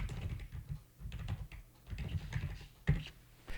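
Typing on a computer keyboard: a close, quiet run of soft key clicks in uneven bursts, with brief pauses between strokes.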